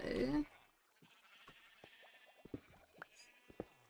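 Sheep in the Minecraft video game bleat in short, scattered bursts, quiet and somewhat distant, after a brief spoken word at the start.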